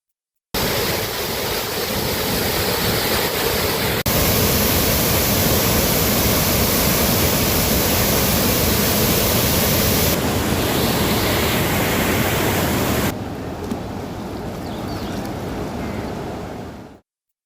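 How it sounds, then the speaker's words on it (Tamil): Hogenakkal waterfalls on the Kaveri River in flood roar loudly and continuously. The broadband rush of water fills the whole stretch, shifts slightly in tone partway through and eases a little near the end, with no voices. "ஒகேனக்கல் காவிரிக்கு வினாடிக்கு எழுபதாயிரம் கன அடி நீர் வந்து கொண்டிருப்பதால் அருவிகளில் வெள்ளம் ஆர்ப்பரிக்கிறது"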